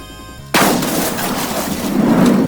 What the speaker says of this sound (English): You try shooting at a guy above an obstacle or around a tight spot and the bullet doesn't connect